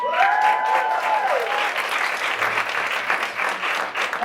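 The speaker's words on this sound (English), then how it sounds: "Round of applause." A room of attendees at an in-person women-in-sales event claps loudly and steadily for an incoming speaker, with a brief voice at the start under the applause.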